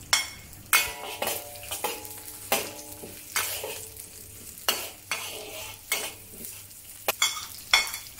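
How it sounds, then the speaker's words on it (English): Garlic, ginger, shallots and scallion sauté in a pan, a sizzling hiss punctuated by a regular series of loud scraping and clinking strokes from a spatula stirring the pan, with no talk. "Followed by adding the shallots and then the scallion"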